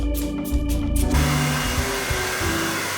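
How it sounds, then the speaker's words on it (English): A handheld hair dryer blowing steadily as it dries freshly washed, chemically treated hair, a loud continuous whooshing drone heard close up with no voices. "Let's blow dry it,"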